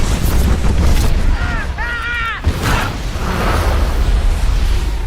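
A large movie explosion sound effect rumbles loud and full, a sustained low boom with crackling debris that briefly dips midway and then rolls on. Brief high whistling tones sound partway through.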